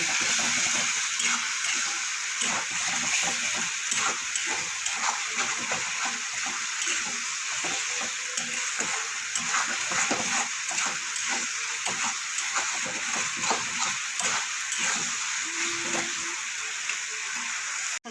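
Spice paste with a little added water sautés in a pan for a fish curry, giving a steady, close, soft sizzle and bubbling hiss with faint scraping, unbroken for the whole stretch.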